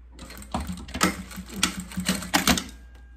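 A sewing machine stitches a short run over a fabric fold on a small Easter bag, producing close, rapid mechanical clatter in uneven bursts with brief pauses between them.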